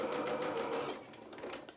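A sewing machine runs a zigzag stitch along a fabric edge on a doll's shirt, a short, close, steady whirr that eases off toward the end.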